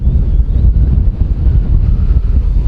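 Steady wind buffeting a microphone outdoors while a Xiaomi Fimi A3 drone flies in strengthening wind, a loud, continuous low rumble with no speech.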